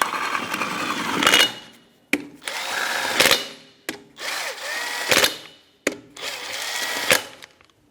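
Power impact tool running a 21mm socket onto the lug bolts of a 2007-2012 Nissan Versa rear wheel hub, several loud, close buzzing bursts separated by short pauses, each ending in a sharp hammering peak.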